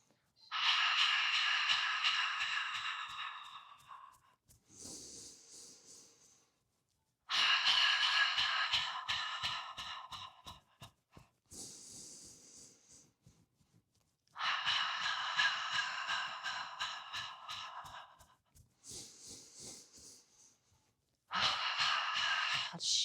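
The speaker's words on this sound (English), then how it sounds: "And let's do a few healing sounds. So inhale through the nose and exhale." Qigong healing breaths: four long, audible exhales follow nasal inhales, each a soft breathy rush lasting several seconds with quieter intakes between, close and alone with no talk.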